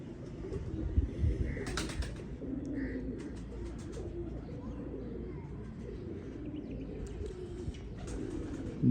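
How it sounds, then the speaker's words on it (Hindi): A pigeon gives soft, low, rolling coos, close but faint against a muffled background rumble of outdoor ambience, with a few brief higher chirps and a soft vocal murmur mixed in. "ये कबूतर है जी"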